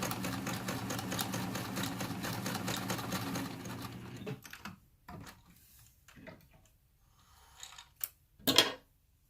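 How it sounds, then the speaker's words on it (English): A sewing machine runs steadily for about four seconds, stitching a hem with a twin needle, then stops, followed by a few quiet clicks and handling knocks. "keep stitching, following that seam allowance, not stretching your fabric while you're sewing"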